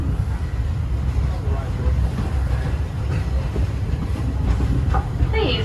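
Walt Disney World Railroad train running, a continuous loud rumble of wheels on track with rolling clatter, and a recorded announcement voice speaking over it.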